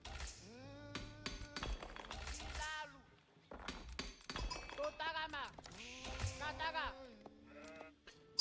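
Sheep bleat repeatedly in wavering, nasal calls in Age of Empires IV, mixed with occasional sharp clinks and breaking sounds.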